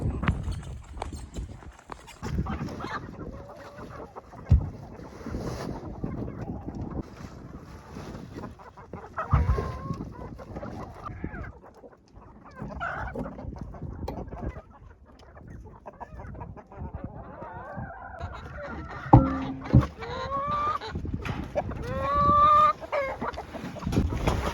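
Chickens on a homestead at feeding time: soft, scattered clucks and short calls over quiet rustling and thumps, growing busier toward the end.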